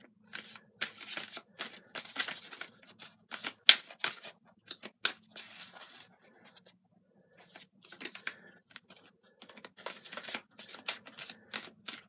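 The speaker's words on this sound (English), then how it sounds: "Now I'll draw from the Light Seer's Tarot," Light Seer's Tarot cards being shuffled and drawn, giving bursts of riffling and snapping card sounds with short quiet gaps between them and no talking.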